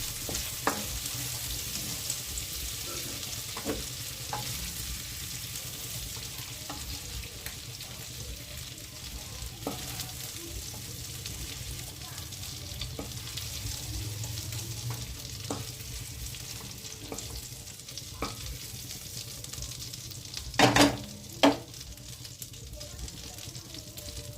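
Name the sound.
prawns frying in oil in a pan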